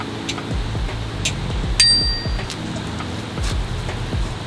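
An electric bike's bell rings out, a bright metallic ding standing above a busy background of clattering and knocking, heard once near the middle of the clip.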